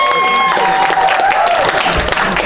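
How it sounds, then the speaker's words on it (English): Players are welcomed back in with a round of applause, a short burst of crowd clapping mixed with cheering and a loud voice over the top, ending in a low thump. "let's give a big round of applause as they"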